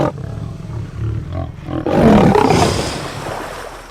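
A male lion facing a crocodile gives low, rumbling growls that build into a loud, drawn-out roar, close and powerful, then trails off into a rough breathy tail.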